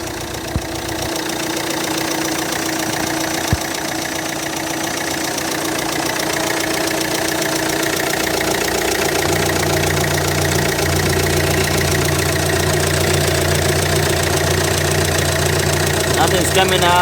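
A 2007 Daewoo Winstorm in black idles steadily with the hood open, a constant even engine drone with a faint ticking rhythm, heard close up and alone for the whole stretch.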